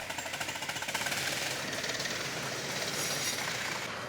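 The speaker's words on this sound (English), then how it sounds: "uncoupled him from the diesel railcar, and she departed" A diesel railcar rumbles steadily along the rails as it departs, with a rapid rhythmic clatter from the wheels, loud and continuous throughout.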